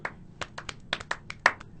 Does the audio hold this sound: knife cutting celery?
no